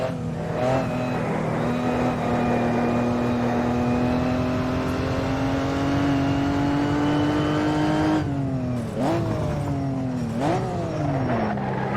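A 1958 Formula One car in the Automobilista racing game screams at high revs, with the pitch climbing steadily before sharp drops and rises at gear changes, loud and continuous with no talk.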